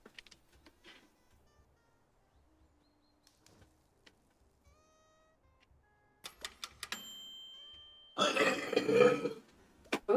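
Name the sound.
burp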